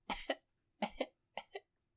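Three quick, harsh coughs in a row, each a double burst, close and fairly faint against silence.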